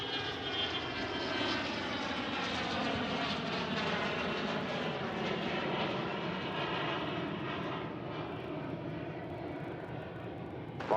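A jet airliner takes off from a runway at Reagan National Airport, a loud, sustained engine roar with shifting tonal whine that fills the whole span and eases slightly toward the end, with no voices over it.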